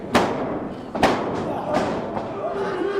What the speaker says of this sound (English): Joey Balls catches him in midair and power bombs him straight down.